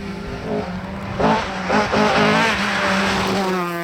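A historic BMW M3 rally car on a Belgian stage of the Omloop van Vlaanderen Historic, its engine revving hard and close with a rising and falling note and brief tire squeal as it passes, with no talking.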